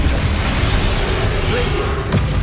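A Bombarda spell detonating in Hogwarts Legacy, a loud, dense rumbling boom with heavy low-end roar that fills the whole moment, close and sustained with a brief burst near the end.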